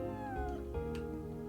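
A cat meows in the video game Chrono Cross, a single drawn-out mew that falls in pitch, heard faintly over soft game music.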